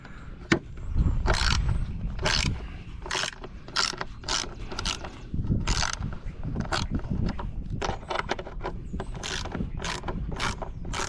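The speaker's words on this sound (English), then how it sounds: "you're going to need is a number 10 and a ratchet, and we'll go ahead and take these 2 bolts" A number 10 ratchet loosens bolts on the pump cover of a Craftsman DYS4500 riding mower, giving repeated bursts of sharp, close metallic clicking with short pauses between strokes.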